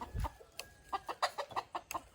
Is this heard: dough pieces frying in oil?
no